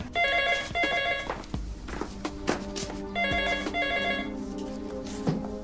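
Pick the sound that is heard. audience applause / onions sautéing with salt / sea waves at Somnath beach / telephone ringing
telephone ringing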